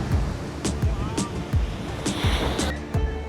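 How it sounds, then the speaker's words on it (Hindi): Ocean waves crash and surge at Ram Setu, close and loud in a rough, rushing wash of water, with repeated breaking bursts and a voice heard over the surf. "तो लहरें देखो यहाँ पे"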